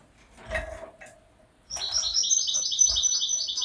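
A caged goldfinch mule cock bursts into a sustained, fast run of high, clear trilling notes after a few seconds of quiet shuffling, the song close and continuing steadily to the end.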